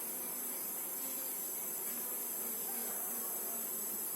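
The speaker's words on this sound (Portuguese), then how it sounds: "movimentação de abelhas do entra e sai aqui é muito grande" A dense, continuous buzzing hum from a large swarm of honey bees crowding in and out of a hive box entrance, heard up close and steady throughout, with drones among them and no speech.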